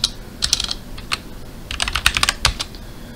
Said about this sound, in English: Typing's hard.